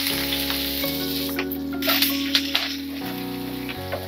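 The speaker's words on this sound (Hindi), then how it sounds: "2 टेबल स्पून हम ऑयल डाल रहे हैं यहाँ पर, 1 टीस्पून नमक डाल रहे हैं ऑयल में, प्याज डाल देते हैं" Onions with salt sizzle in two tablespoons of hot oil in a heated pan, a steady close frying hiss with a low tonal hum beneath and a few scraping stirs near the end.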